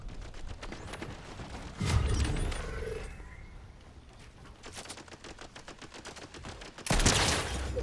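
Gunfire in a video game, a soft, distant patter of rapid shots with two louder bursts standing out, one early and one near the end.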